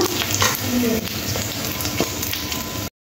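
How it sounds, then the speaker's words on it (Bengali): Whole cumin seeds and a bay leaf crackle and sizzle in hot oil in a pan, a steady close hiss with small pops, cutting off abruptly at the end. "এবার একটু তেল দিয়ে দেব, গোটা জিরে ফোড়ন দিয়ে দেবো, তার সঙ্গে একটা তেজপাতা"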